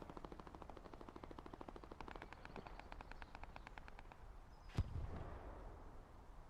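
MG42 machine guns fire in Hell Let Loose, a faint, distant rapid rattle of rounds lasting several seconds, then a single sharper crack, under low battlefield ambience.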